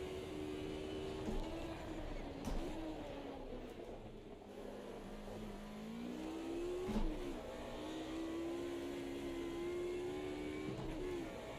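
A Mercedes 190E Group A race car in Automobilista 2 pulls out of the pits at Circuit Gilles Villeneuve on cold tyres. A steady, close engine drone rises and falls in pitch as it shifts through gears, with brief dips between throttle pulls.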